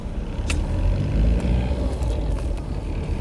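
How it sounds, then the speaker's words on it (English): An old Skoda Favorit's 8-valve overhead-valve engine clatters steadily while driving, a continuous low rumble with road noise and a few faint ticks, no voices. "it's an old school 8-valve overhead valve design, so it's a bit clattery"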